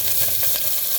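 Mustard seeds, cumin and garlic cloves crackle and sizzle in hot oil in a pot, a loud, close, continuous frying hiss with small popping bursts.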